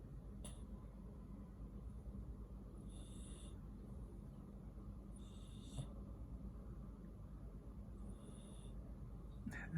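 Sleeping cat snoring softly, with faint, evenly spaced breaths and snorts repeating over a steady low hum of background noise, close and quiet.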